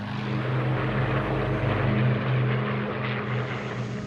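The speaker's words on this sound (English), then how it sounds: "When it turns away from you, you get the full blast of those engines." A steady, loud droning roar of RAF Battle of Britain-era fighter aircraft propeller engines, rumbling continuously with a low throbbing hum and no voices.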